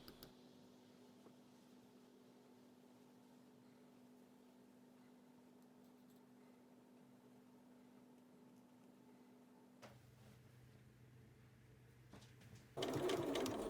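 A sewing machine stitches a dress seam 1 cm from the edge, humming steadily and close for about ten seconds, then shifting pitch before a louder burst of running at the end.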